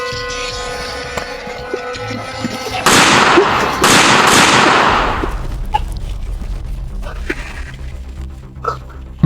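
Two loud gunshot blasts go off in a hunting video game a second or so apart, each leaving a long echoing tail that fades into a low ambient hum.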